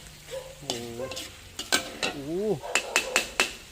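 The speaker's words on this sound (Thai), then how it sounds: "เสียงเคาะกระทะนะ" A metal spatula clanks and taps against a large wok of pork in quick bursts, with sizzling and voices chattering in the background.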